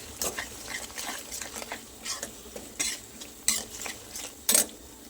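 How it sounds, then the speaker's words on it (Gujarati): Coriander-cumin powder and garam masala fry in a pan for Gujarati masala khichdi, stirred with a spoon that scrapes and clinks against the metal in repeated bursts over a faint sizzle. "હવે બધું સરસ મિક્સ કરી લઈશું."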